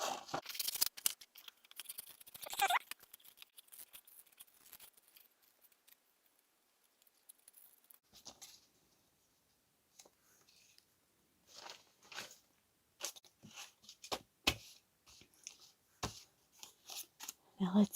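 Scissors snip through a paper shape of a mother figure and her babies, in short crisp cuts scattered in bursts with quiet gaps between them, close and fairly soft.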